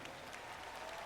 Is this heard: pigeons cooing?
no